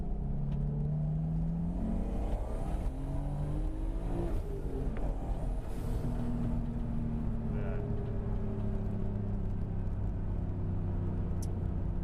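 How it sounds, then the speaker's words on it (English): A car engine rumbles and revs nearby, its pitch sliding up and down as it approaches and passes, with steady road noise throughout. "there's a car coming"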